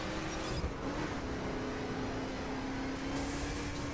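A car in the racing game The Crew drives and slides through corners, its steady engine drone running low and even with a brief higher whine near the end, moderately loud and without talk.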